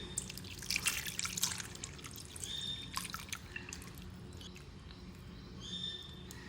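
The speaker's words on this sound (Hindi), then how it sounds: "अब इसको नीम गर्म पानी से मैं इसको वॉश करूँगी।" Chicken liver is rinsed in lukewarm water in a bowl, with bursts of splashing and dripping that ease into quieter trickles.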